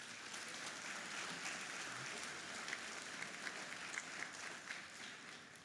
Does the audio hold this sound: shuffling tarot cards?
no